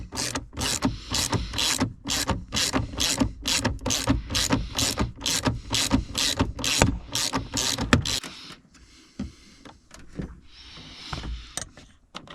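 A ratchet with a 10 mm socket tightens a wire onto the battery junction of a Volvo XC90 during trailer wiring installation, giving a long run of fast, loud, rhythmic clicks close up, then a few quieter scattered clicks.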